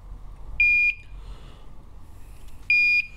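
Smoke detector gadget gives two short, shrill electronic buzzes about two seconds apart as the smoke particle level rises, loud and close over a quiet background.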